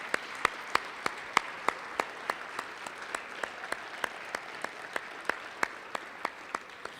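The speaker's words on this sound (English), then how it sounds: "So round of applause for these people," A small audience at the 2017 Shawnee High School Crystal Apple Awards ceremony claps, a faint, sparse patter with individual sharp claps standing out in a loose, steady rhythm.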